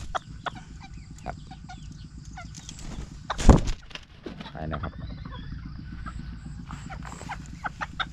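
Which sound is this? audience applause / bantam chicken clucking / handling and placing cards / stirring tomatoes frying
bantam chicken clucking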